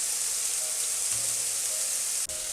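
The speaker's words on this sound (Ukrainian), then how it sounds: "смажимо все по окремості, м'ясо, гриби, цибулю" Steady sizzling of meat frying in a hot pan, a constant crackling hiss with no talking.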